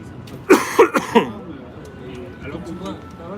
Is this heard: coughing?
yes